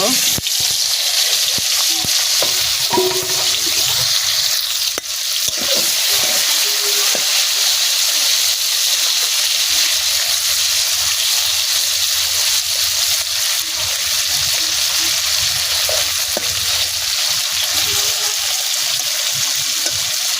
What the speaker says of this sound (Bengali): কড়াইটা তেতে গিয়েছে তেলটা ঢেলে দিলাম কিছুক্ষণ পর আমি আলুগুলাও ঢেলে দিব